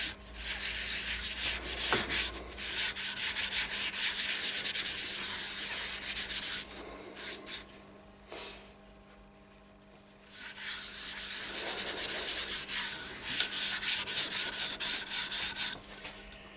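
Continuous abrasive rubbing of Yorkshire Grit polishing paste against a wooden bowl spinning on a lathe, a steady gritty hiss with brief pauses and changes in pressure.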